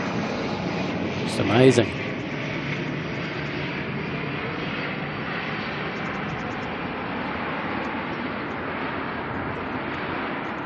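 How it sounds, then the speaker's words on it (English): An orange ATR turboprop arriving from Napier makes a steady engine drone across the whole stretch, with a brief louder burst near the start as someone speaks. "All right, we've got an ATR coming on in from Napier."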